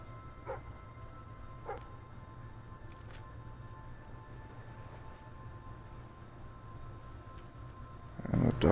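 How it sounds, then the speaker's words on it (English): A dog in the Fable III video game gives a few short, fairly faint barks spaced out over a low, steady ambient hum. "And the dog is barking"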